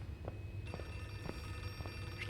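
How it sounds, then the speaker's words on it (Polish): A telephone in the video game Outlast 2 rings with a steady electronic trill, repeating in regular short bursts over a low background hum. "telefon dzwoni"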